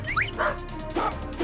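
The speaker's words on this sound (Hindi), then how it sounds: "कौन भौंक रहा है?" A puppy shut inside a wooden trunk lets out a few short, muffled yips and barks in quick bursts, fairly faint and set against a quiet background.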